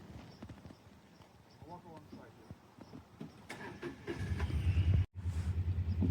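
Horses walking over hilly ground around a hay hut, rhythmic hoof clip-clops growing louder and closer toward the end, with a person talking quietly through the first half.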